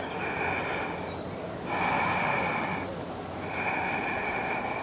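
Deep, slow yoga breath during a standing practice, a long drawn inhale then exhale in two broad whooshing swells over steady room hiss, near and audible, no talking.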